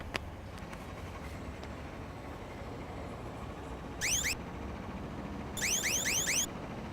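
A car alarm in a comedy sketch gives two short bursts of rapidly warbling electronic chirps, the second longer and repeating several times, over a low background hum.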